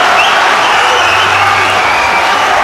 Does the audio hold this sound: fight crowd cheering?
yes